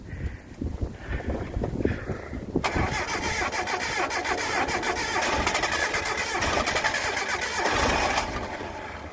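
A Datsun 720 ute with a very dry fuel system cranks a few times, then its engine catches and roars up, running loud and steady with revving near the close.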